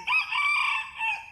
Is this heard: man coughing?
no